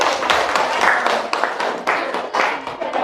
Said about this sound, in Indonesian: Beri aplaus untuk kelompok yang terakhir.